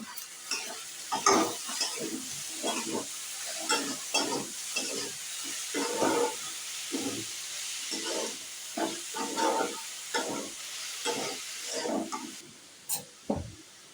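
Fenugreek leaves and potatoes stir-fried together in a pan make repeated rhythmic scraping strokes of a spatula over a soft continuous sizzle, close and fairly quiet.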